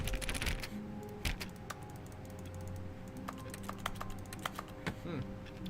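Keyboard clicks in The Stanley Parable, a steady, close run of light key taps and clacks with a few sharper hits, with a voice talking quietly underneath.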